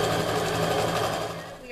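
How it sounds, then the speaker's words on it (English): A sewing machine runs in a continuous rapid whir as it stitches down both sides of a quilt hourglass unit, with a steady mechanical buzz through the short stretch. "Let's go ahead and sew down both sides."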